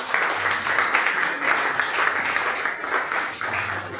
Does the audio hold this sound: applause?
yes